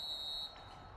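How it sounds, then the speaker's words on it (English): Final buzzer in a basketball video game played in Dynasty mode: a steady electronic buzz sounds for under half a second, then cuts off, leaving a faint background hiss. "And that's the final buzzer."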